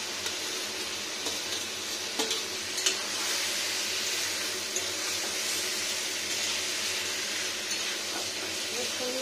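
Vegetables and tomato fry in oil in a pan for a vegetarian poppy-seed paste dish, giving a steady close hiss of sizzling with a few soft clicks and stirs.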